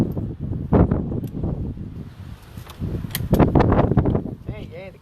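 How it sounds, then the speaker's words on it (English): Strong outdoor wind buffets the microphone in uneven gusts and rustles debris, rising and falling while a person talks over it. "It's really super windy if you can't tell."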